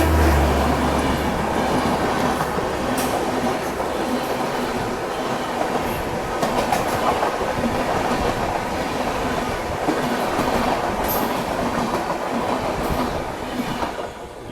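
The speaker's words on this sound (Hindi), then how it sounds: "ये अपनी गतिमान एक्सप्रेस निकली।" Gatimaan Express pulling away from the platform, a steady loud rumble of rolling wheels with rhythmic clatter over rail joints and faint squeals, continuing unbroken throughout with no talk.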